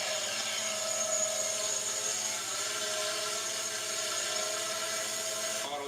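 A small consumer drone lifts off on automatic takeoff and holds a steady hover, its propellers producing a continuous, even whine with layered tones that stays loud and close throughout, with no talking.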